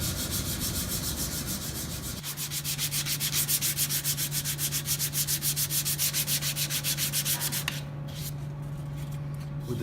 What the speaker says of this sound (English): With the 220, I've just done a diagonal sanding